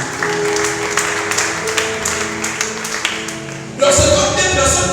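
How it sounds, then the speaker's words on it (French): A church congregation bursts into loud applause after a sermon in French, the clapping swelling suddenly and continuing strongly near the end after a stretch of talking with scattered taps. "Est-ce qu'on peut acclamer pour la gloire de Jésus?"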